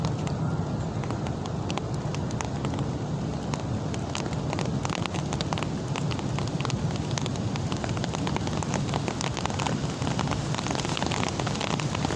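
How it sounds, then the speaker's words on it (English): Steady rain falling outdoors, a dense, even hiss of drops with sharper patters on surfaces, close and constant with no talk. "Oh, it's raining here."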